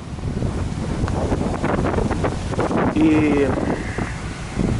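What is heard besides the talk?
strong wind on a street in Miami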